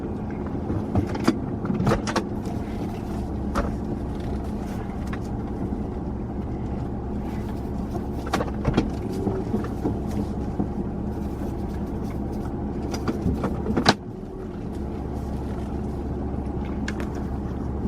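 A car rolls along a rural road toward a country church near Adrian, Georgia, its steady engine and tire drone filling the cabin with scattered knocks and bumps, and a sharp thump near the end.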